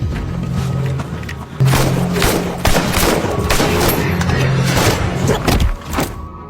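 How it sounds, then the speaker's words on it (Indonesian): A film gunfight plays out as a dense exchange of rapid gunshots and bursts, loud and continuous with heavy low rumble, trailing off near the end. "Sempat terjadi baku tembak sampai pada akhirnya Max berhasil dilumpuhkan oleh si ajudan"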